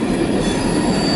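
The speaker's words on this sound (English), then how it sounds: "After this train passed," A CSX Q416 mixed freight train rolls past close by, with a loud, continuous rumble and grinding of wheels on rail filling the whole short stretch.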